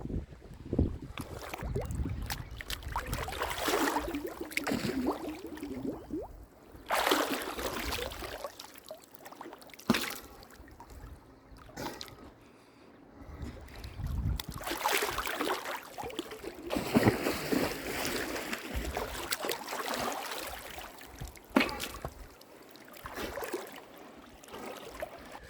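A snorkeler with a TYR Ultralite Snorkel 2.0 submerges, giving muffled churning water and splashing with bursts of bubbling and breathy rushes through the tube, loud and close, rising and falling in waves, no talking.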